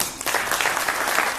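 A breakfast forum audience claps warmly to welcome Korea's prime minister, a dense, sustained patter of many hands in an indoor hall, steady and moderately loud throughout.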